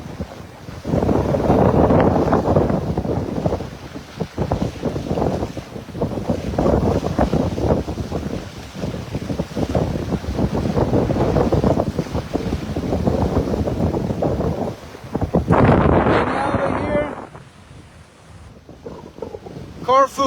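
A Pegasus 50 sailboat under way off Corfu, Greece, with steady wind roaring across the microphone and waves washing against the hull, loud and continuous throughout.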